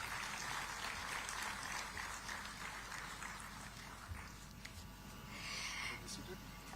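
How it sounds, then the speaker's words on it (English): A seated audience at a digital technology summit gives the speakers a round of applause, a steady wash of many hands clapping at moderate distance that holds evenly for several seconds before thinning slightly. "let's give all our speakers another round of warm applause for their gracious"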